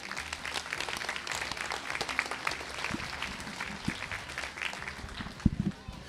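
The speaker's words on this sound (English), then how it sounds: "Let's give them all a round of applause." An audience at a youth poultry livestock show in a barn applauds, a sustained round of clapping with scattered thumps and a few voices underneath.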